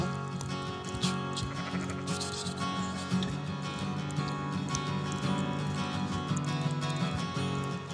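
Kyrgyz horses in a high mountain valley pasture at 2,600 meters, heard as steady hoof clip-clop and occasional whinnies blended into a dense, continuous outdoor background, moderately loud throughout.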